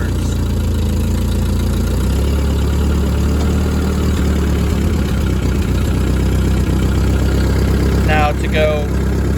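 A Ford 8N tractor's engine runs nearby, a loud steady low chug that keeps going while the tractor reverses, with someone talking over it and a brief squeak near the end.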